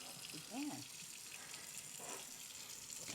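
Tap water runs quietly and steadily at a sink as soap is rinsed off a cooking pot, a faint continuous wash with a brief voice-like murmur partway through.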